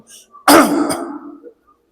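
One person clears their throat once, a short forceful rasp trailing into a low hum, close to the listener in an otherwise quiet room.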